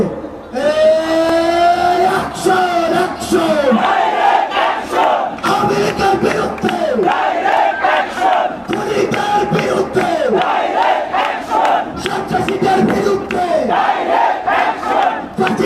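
A large political rally crowd at Baitul Mukarram chants slogans in loud unison, the rhythmic call-and-response shouts filling the air continuously and close by.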